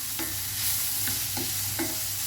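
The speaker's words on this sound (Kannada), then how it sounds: "ಇದೆಲ್ಲ ಇದರ ಹಸಿ ವಾಸನೆ ಹೋಗಲಿ ಅಲ್ಲಿವರೆಗೆ ಫ್ರೈ ಮಾಡುವ." Carrot and capsicum are stir-fried in a pan, with a constant hiss of frying and about four brief spatula scrapes against the pan at uneven intervals.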